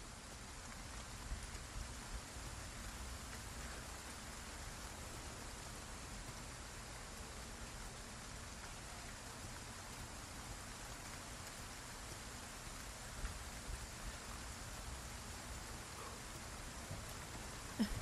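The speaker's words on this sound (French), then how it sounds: "T'aimes pas la pluie, Léon? Qu'est-ce qui se passe?" Steady rainfall in Resident Evil 4, a faint, even hiss of rain on surfaces that runs unbroken for eighteen seconds with no voices.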